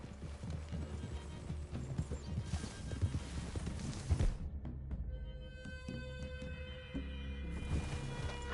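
Horse hooves clip-clop in a steady walking rhythm, clear and close, over a soft humming ambience in Red Dead Redemption 2.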